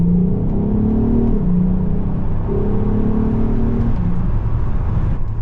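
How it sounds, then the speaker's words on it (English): A VW Golf R32 fitted with a loud non-resonated Scorpion exhaust revs repeatedly, the rising and falling engine note sustained and prominent over a constant droning rumble, heard close with no speech. "you also get more exhaust noise for sure."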